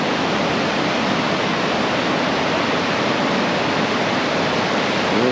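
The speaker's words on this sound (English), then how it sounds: "Falls, near Cumberland, BC." Nymph Falls near Cumberland, BC, a waterfall running with strong flow, produces a dense, steady roar of rushing water, continuous and even throughout with no breaks.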